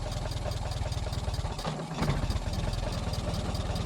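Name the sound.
Ford Model T engine idling while stopped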